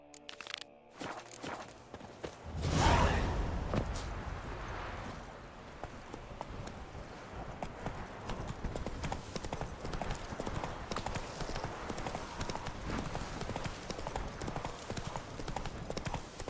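Roach the horse gallops in The Witcher 3, steady rhythmic hoofbeats sounding close and continuous after a brief louder burst near the start.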